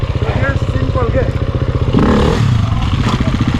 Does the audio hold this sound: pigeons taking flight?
no